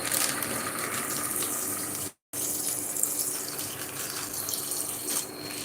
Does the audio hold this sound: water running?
yes